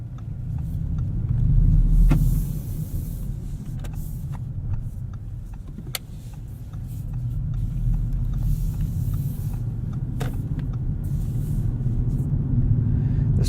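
Interior of a 2016 Audi S7 on the road, steady low engine and tyre rumble with smooth, barely noticeable gear changes and occasional small knocks, no talking.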